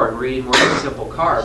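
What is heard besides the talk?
sneeze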